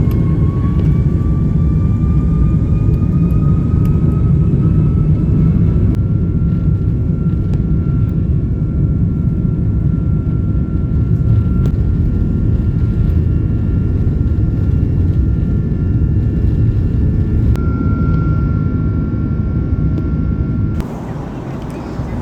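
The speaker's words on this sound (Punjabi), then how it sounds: "ਲੈ ਹੁਣ ਲੱਗਿਆ ਬਈ ਉਡਣ ਜਹਾਜ਼" A steady, loud roar of jet engines fills the cabin as an airplane takes off, with a rising whine running over the constant rumble.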